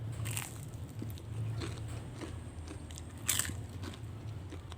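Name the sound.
biting crispy battered fried tempeh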